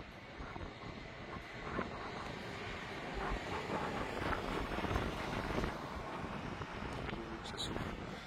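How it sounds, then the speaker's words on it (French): Strong wind from storm Floriane on 5 January 2025 roars and buffets the microphone in a continuous rushing noise, with swelling gusts that peak midway through. "Ça souffle"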